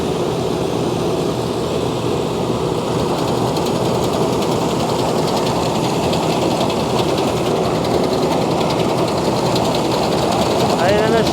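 Claas combine harvester in a field with its engine at full throttle, a loud steady diesel roar and mechanical drone held without letup, a voice faintly audible at points.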